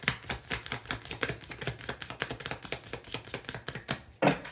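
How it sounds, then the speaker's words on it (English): A rapid run of soft, papery flutters and taps as a deck of tarot cards is shuffled, ending in a louder riffle; no one speaks. "Okay, one more shuffle."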